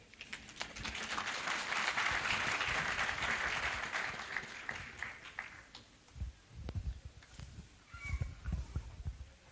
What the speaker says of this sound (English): Can we clap for him again, ladies and gentlemen?